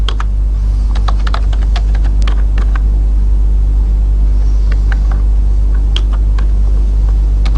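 Quick, irregular bursts of keystrokes clatter on a computer keyboard while code is typed, close and crisp over a constant low hum.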